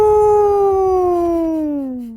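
A person imitates a loon's howling call, a single sustained wavering tone that slides slowly downward in pitch over about two seconds, loud and close with no other sound.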